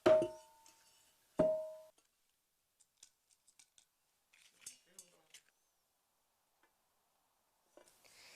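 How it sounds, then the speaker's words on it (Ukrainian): Two sharp metallic clangs ring out early, then scattered light clinks and taps of a metal pot being set down and adjusted. "Я беру каструлю і розміщую її так"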